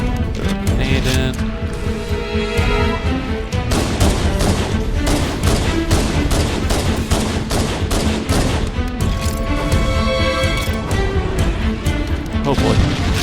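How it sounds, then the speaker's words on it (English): Rapid gunfire bursts and heavy blasts from Halo: Combat Evolved, including a thrown grenade, crackle loudly and continuously in dense, overlapping volleys with no pause. "Shoot that turret pistol a little bit. Throw a grenade in."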